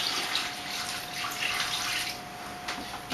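Water poured from a tap into a container holding a turkey, a steady rushing splash with slight surges and a faint ringing tone, loud and close with no speech.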